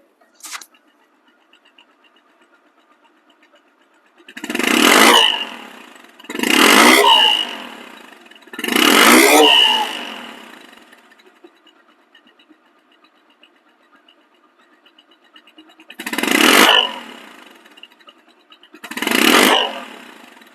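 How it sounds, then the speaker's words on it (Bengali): Five loud revs from a Bajaj Discover 135cc motorcycle engine in bursts, each rising and falling, separated by quieter idling gaps, close by with no talking. "অরিজিনাল সাউন্ড আছে এখন পর্যন্ত অরিজিনাল সাউন্ড আছে"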